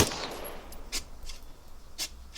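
Gunfire in the Arma 3 video game during platoon training, a few short, sharp distant reports spaced across a quiet background.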